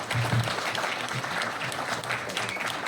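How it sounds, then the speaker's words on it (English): An audience applauds after a talk at an event on building a city on the moon, with steady, fairly distant clapping from a crowd sustained through the whole stretch. "Another round of applause for Albert Rashkumar"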